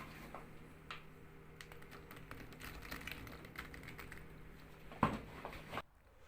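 Green beans being cut into medium pieces with a knife, a rapid run of faint, close tapping chops and crisp snaps, steady throughout and ending abruptly.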